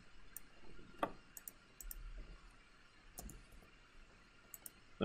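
Sparse computer mouse clicks while editing a game template in Construct 3, a few sharp, quiet taps spaced irregularly with a couple in quick double succession, close and otherwise quiet.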